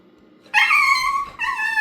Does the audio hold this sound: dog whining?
yes